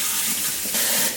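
Filtered water from a whole-house water filter runs steadily from a kitchen tap over sprouting seeds being rinsed, a loud, close, continuous splashing rush with no talking.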